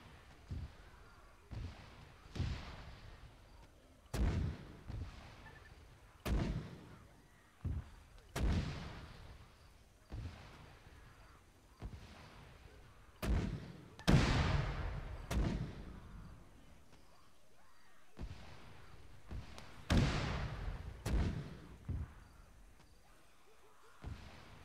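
Mortar rounds firing in a military video game, a long series of sharp booming thumps at irregular intervals, each with a short decaying tail, fairly loud against a quiet background.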